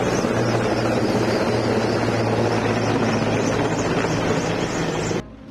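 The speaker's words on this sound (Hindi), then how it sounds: "सुबह 9 बजे इंडियन एयरफोर्स के हेलीकॉप्टर ने नेशनल पुलिस वॉर मेमोरियल पर फूलों की बारिश की।" An Indian Air Force helicopter passes over the National Police War Memorial in Delhi while showering flowers, a loud, continuous rotor and engine drone that holds steady and then cuts off abruptly near the end.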